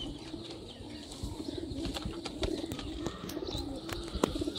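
Sialkoti pigeons coo softly in a steady, continuous background murmur, with occasional faint wing flutters and small chirps over a constant low hum.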